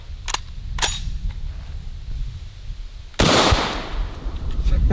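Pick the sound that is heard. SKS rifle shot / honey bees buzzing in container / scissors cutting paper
SKS rifle shot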